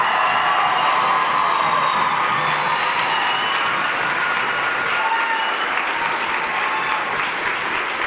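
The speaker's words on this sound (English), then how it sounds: "can we give them one more good round of applause" An audience at a fire recruit class graduation ceremony in Newark gives the new firefighters loud, sustained applause, a dense wash of clapping that continues without a break.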